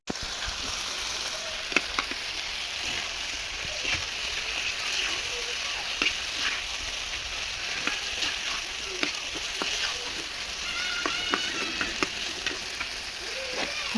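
Tomatoes frying in a pan, a dense crackling sizzle throughout with scattered sharp ticks and spatters as they are stirred, fairly close and steady.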